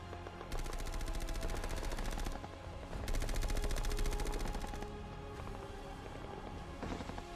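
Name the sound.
gunfire and artillery in Falklands battle, Mount Two Sisters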